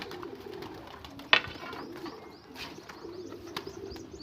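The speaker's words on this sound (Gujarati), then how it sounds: "તો મિત્રો બધા કબૂતર અંદર ગળી ગયા છે" Pigeons shut inside a coop coo softly in low rolling murmurs, fairly faint, with a brief sharp knock partway through and light rustling.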